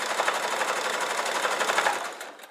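A sewing machine stitches quilt binding, running in a steady fast mechanical rattle for about two seconds before slowing and stopping, close and alone without speech.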